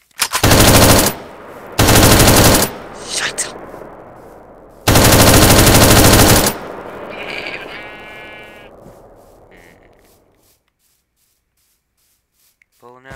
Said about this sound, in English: I legit can't hear you over gunfire.